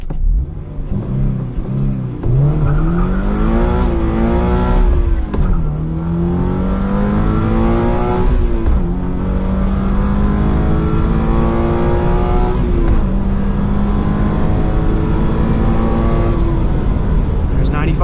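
Engine of a Subaru BRZ fitted with a 4.3 limited slip differential from a 2020 BRZ, driven hard on a race track, revving loudly from inside the car and climbing through repeated gear changes, each pull rising steadily before the next shift.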